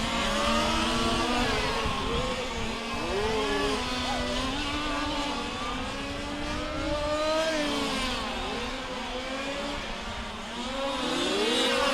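Large-scale RC race cars buzz past the start-finish line during the 2015 IFMAR Large Scale World Championship finals, multiple high-pitched engines overlapping with rising and falling whines, loud and constant across the whole stretch.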